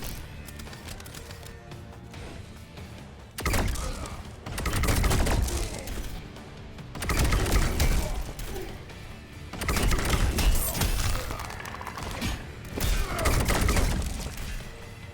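Plasma cannon shots in a Mortal Kombat fighting game, four loud separate bursts of blasting impacts with quieter stretches between them, heard over background game sound.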